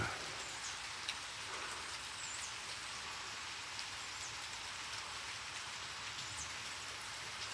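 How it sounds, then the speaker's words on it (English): Steady rain falls outside a house, heard from the basement level as a continuous broadband hiss with scattered drips, even and unbroken throughout. "You can hear it raining, but that's out the bottom layer, the basement."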